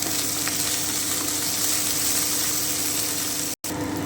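Prawn head mixture with turmeric and chopped coriander sizzles steadily in a pan, a continuous close frying hiss with no talk and one brief dropout near the end.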